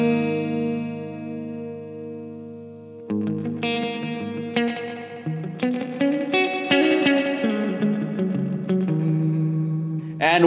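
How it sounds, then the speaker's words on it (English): Electric guitar run through the spring reverb of a Gokko Axe MX300 multi-effects unit, heavy wet mix: a sustained chord rings into a long wash, then busier picked notes and chords follow, each trailing off in splashy reverb, no voices. "Being a spring type, you can easily drench your guitar tone with a ton of reverb using the mix knob."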